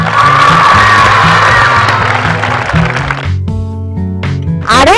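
Schoolchildren clap and cheer for a classmate who won a drawing prize at a school event. Loud, close cheering and whooping rise over strong music, then fade as the music carries on alone.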